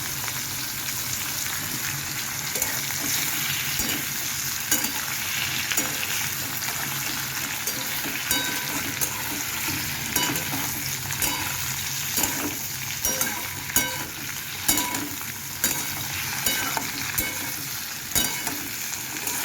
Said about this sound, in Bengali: আগে এখানে সর্ষে ফোড়নটা দিয়ে নেবেন তারপরে উচ্ছেগুলো ছেড়ে দিলাম